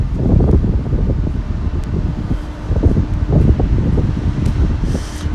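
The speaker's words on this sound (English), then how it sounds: "sudden gust of wind, sorry" A sudden gust of wind buffets the microphone outdoors in Oxford, loud rumbling bursts that rise and fall for several seconds with leaves rustling faintly.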